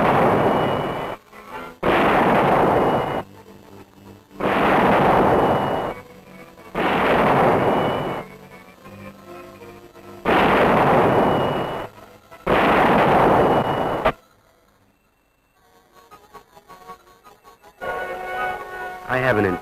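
Artillery guns firing rounds during a simulated assault at a 1953 anti-aircraft artillery brigade training camp: several loud, heavy booming blasts in close succession, each with a long rumbling tail, then a quieter stretch with faint background noise.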